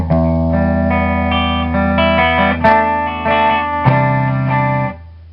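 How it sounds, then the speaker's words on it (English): Electric guitar glides a pick down the top three strings in a slow, ringing pattern, chords sustaining with an effects-heavy, chorus-like shimmer, played alone. "you just kind of like glide your pick down those top 3 strings"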